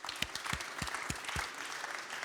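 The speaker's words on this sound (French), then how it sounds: "On vous applaudit pour ces présentations et ces informations." An audience applauds after presentations on cardboard and bio-based and biodegradable plastics, a soft, fairly distant patter of clapping with a few louder individual claps standing out, heard alone without speech.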